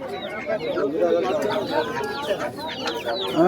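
Roosters and hens crow and cluck in overlapping bursts at a busy open-air livestock market in Basirhat, close and constant, with people talking among the birds.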